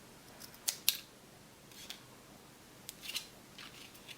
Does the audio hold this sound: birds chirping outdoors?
no